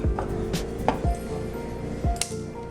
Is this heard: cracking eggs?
yes